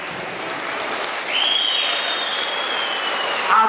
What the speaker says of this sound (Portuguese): Adoro o aplauso.